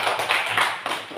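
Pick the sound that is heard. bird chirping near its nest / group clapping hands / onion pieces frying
group clapping hands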